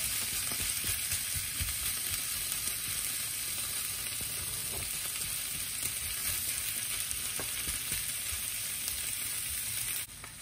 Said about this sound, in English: So we just cook in the low heat. Let the soya meat absorb the flavor.